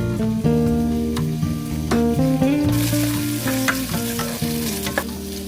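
Sliced bell pepper fries in a pan for a Filipino-style dinner, a steady sizzle with occasional stirring that grows brighter halfway through, heard under loud melodic background music.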